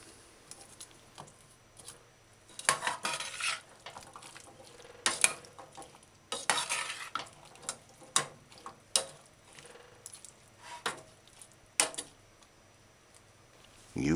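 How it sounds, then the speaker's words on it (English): Sliced sweet peppers are stirred into a chickpea and mushroom stew in a saucepan, heard as soft wet clatters and scrapes in uneven bursts over a quiet background, close by, with no talking. "Stir that in."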